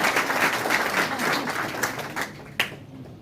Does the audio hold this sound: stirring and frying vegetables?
no